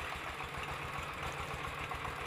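A walk-behind tractor engine runs steadily, a low throbbing idle with a rapid regular pulse, moderately quiet and unbroken, with no voices.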